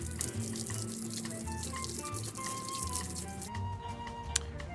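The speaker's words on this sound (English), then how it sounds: "Step 3, we're just gonna hose them off." A garden hose sprays water onto car tires to rinse off tire foam, a steady close splashing and dripping patter that continues throughout with small irregular splashes.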